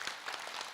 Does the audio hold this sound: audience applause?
yes